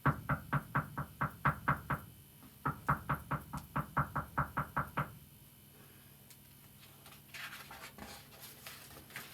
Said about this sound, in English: One Saturday morning, there was a knock on Biggie's door.